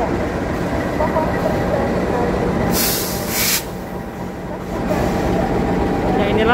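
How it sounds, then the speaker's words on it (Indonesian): A CC206 diesel locomotive idling at Manggarai station in the morning, a steady low engine rumble with a brief hiss partway through, heard close and continuous without talk. "inilah lokomotif yang berdinas pada pagi hari ini, yaitu CC206-1360 tipe induk Cipinang"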